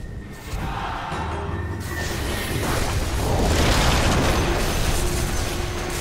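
A tower collapses in the Dota 2 video game, heard as a long rumbling explosion with a whooshing crumble that swells and stays loud for several seconds, with no talk.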